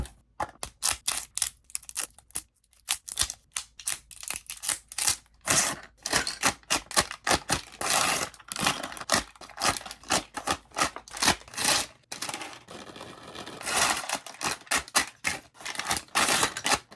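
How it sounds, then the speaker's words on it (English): Scissors snipping open a doll's packaging box, a long run of sharp, close clicking cuts in quick irregular bursts with brief pauses, no voices. "let's roll the snipping montage"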